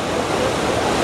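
A loud, unbroken roar of cascading water and spray comes from Dhuandhar falls at Bhedaghat, close and constant throughout.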